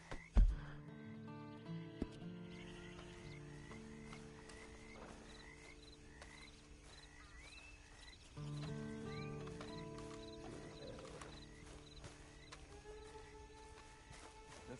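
A horse in a PS4 video game, soft hoof clip-clops and whinnies amid a quiet ambient bed of croaking frogs and game music, faint and low in level with little talk.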